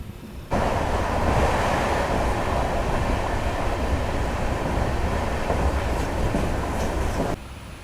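The 12750 Bidar–Machilipatnam SF Express runs at speed, heard from inside as a loud, steady rumble and rattle of wheels on rails that swells suddenly and drops away near the end.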